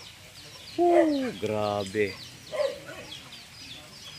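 Chickens on a rural farm give a few short clucks and a drawn-out call, close by, with a person talking briefly over them and quiet outdoor background.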